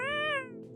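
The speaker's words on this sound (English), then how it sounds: "they need to fix the volume of that meow sound" A single loud cat meow sound effect from the Pathfinder video game, a drawn-out harmonic cry lasting under half a second that fades into quiet game background.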